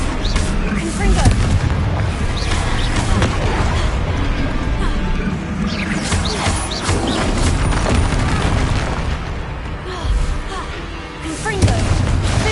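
Fire spell blasts in Hogwarts Legacy, booming explosive bursts repeating through dense, loud combat with music and shouted incantations layered over the fighting.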